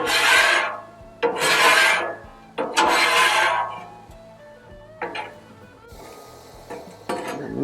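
A metal scraper rasps across a Blackstone griddle, pushing bacon grease aside in several loud, separate strokes with short pauses between them, and a little clinking of utensils follows.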